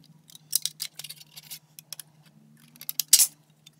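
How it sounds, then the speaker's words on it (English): An old pair of scissors snips through thin aluminum sheet in a quick series of crisp, close metallic cuts, with a louder snip near the end over a low, steady hum. "this aluminum is thin enough that I could just take an old pair of scissors and cut that exact shape out"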